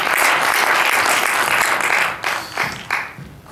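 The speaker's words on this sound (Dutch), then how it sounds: "Ik geef ze een groot applaus." An awards-event crowd applauds steadily and loudly, then the clapping fades and breaks into a few scattered claps.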